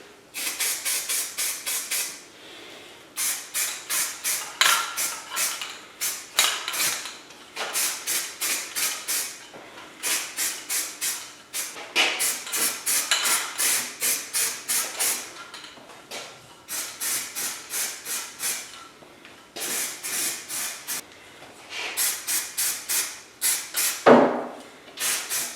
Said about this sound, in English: what I've always done is just put a little self-etch right on that edge